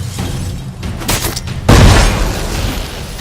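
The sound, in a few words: bomb explosion in The Witcher 3 video game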